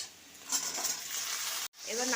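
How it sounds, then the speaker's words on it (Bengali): Potatoes tipped into hot mustard oil with cumin and onion in a kadai, a loud rush of sizzling followed by stirring, a brief break, then the frying hiss returning strongly. "এবার নাড়িয়ে দেবো।"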